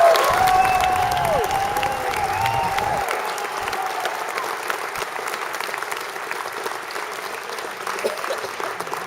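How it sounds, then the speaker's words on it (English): A live show audience applauding in tribute to Art Bell, dense clapping and a few cheers filling the room, loud at first and slowly tapering off, with a voice briefly heard early on. "A moment of applause from all of you as we dedicate this show to Art Bell."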